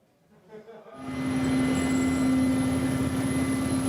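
A squadron of combat helicopters flies over Mali, a loud, steady rotor and engine roar with a sustained hum rising in after a faint voice and holding strong to the end.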